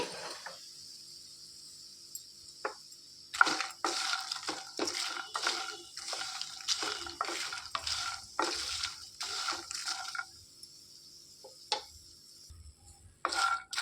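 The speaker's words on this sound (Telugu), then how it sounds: "ఇందులోనికి తామర గింజలు నేను ఒక కప్పు తీసుకున్నానండి వాటిని వేసుకొని వేయించుకోవాలి" One cup of lotus seeds (makhana) dropped into hot ghee in a pan and stirred, with sizzling and scraping in bursts through the middle, quiet stretches before and after, and close, soft clinks of a spoon against the pan.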